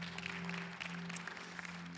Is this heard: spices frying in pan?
no